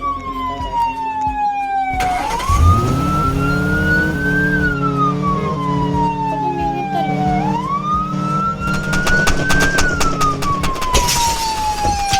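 Police car siren in a video game, a loud close wail rising and falling in long slow sweeps, over engine rumble and some clattering game sounds.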